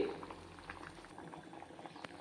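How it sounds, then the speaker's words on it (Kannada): Onions and almonds simmer in a pot of water, giving a faint, continuous bubbling with small irregular pops and patters, close by and with no talking. "ಇದು ಇನ್ನೊಂದು 5 ನಿಮಿಷ ಕುದೀಲಿ"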